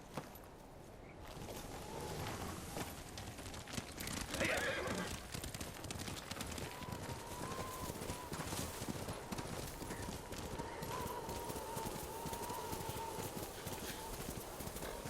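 A horse gallops at a steady clip-clop pace across snowy ground in a Ghost of Tsushima game scene, hooves drumming continuously with a whinny midway, while voices talk over it.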